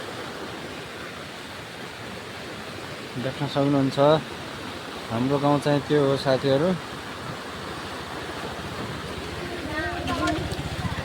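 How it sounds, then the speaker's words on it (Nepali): Steady, broadband roar of fast-flowing floodwater runs throughout, with someone talking over it in short bursts. "यति धेरै ठुलो खोला आइरहेछ"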